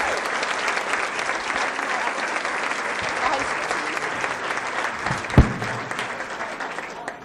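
A meeting audience claps for a team heading to the World Finals, making a full, steady round of applause with one sharp louder clap near the end and a faint voice underneath.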